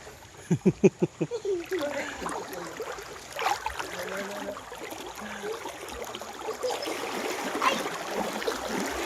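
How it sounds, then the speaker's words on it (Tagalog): Water in a deep river flows with a steady, close rushing hiss throughout, and a brief burst of voice is heard near the start. "dito tayo sa baba ng ilog ngayon"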